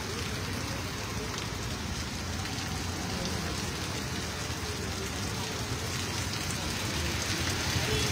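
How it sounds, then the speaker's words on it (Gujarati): Steady, even rain falls over Vadodara city at night, a dense unbroken hiss of drops on surfaces that holds at the same level throughout. "સંદીપ સિટીમાં વરસાદ છે"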